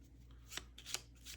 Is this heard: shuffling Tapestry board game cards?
yes